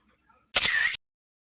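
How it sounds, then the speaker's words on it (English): A single crisp camera shutter click for a selfie, one short burst of mechanical snap and whir after a moment of near silence, close and distinct. "yo, let me take a selfie real quick."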